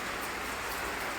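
Heavy rain falls steadily outside a home with a flower garden, a constant dense hiss with no breaks and no voices.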